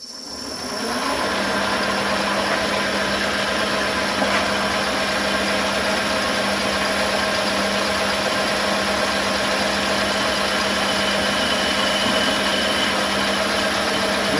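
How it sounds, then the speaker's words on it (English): A metal lathe spins in reverse at 470 RPM for high-speed threading, giving a steady, loud mechanical hum with a constant low drone that starts within the first second and holds unchanged throughout. "I'm going to thread this baby at 470 RPM just to say that we can do it."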